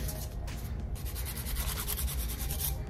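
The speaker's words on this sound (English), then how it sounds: "So I'm just going to buff it a little, not too much" A nail buffer rubs back and forth across a fingernail in a quick, steady scratchy rhythm, close and fairly quiet, with no talking.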